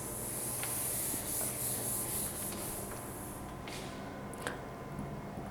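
A drawing is rubbed off a classroom board by hand, a steady scratchy, hissing scrub of a few seconds that fades slightly, with a couple of faint taps near the end and no talk.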